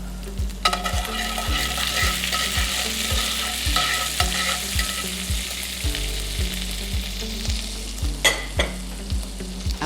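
Garlic and rosemary fry in hot oil in a restaurant kitchen, giving a steady, close sizzle with a regular low thumping rhythm and occasional stirring scrapes, with no talk.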